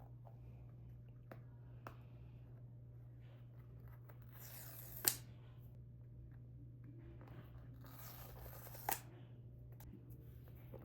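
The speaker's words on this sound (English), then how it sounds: "let's go ahead and rip these tabs off" Seal tabs torn off a black iPhone 16e retail box: two short, faint papery rips a few seconds apart, with a sharp tick in each, over a quiet room hum.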